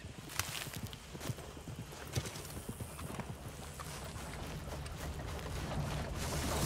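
Horse hooves clip-clopping in the video game Red Dead Redemption 2, a rhythmic run of hoof strikes on a trail, moderately close, with no talk.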